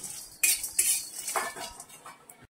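Cinnamon and star anise dry roasting in a pan for Marathwada-style kala masala, heard as a few sharp metallic scrapes and clinks of a spoon against the pan, close up, fading into brief quiet.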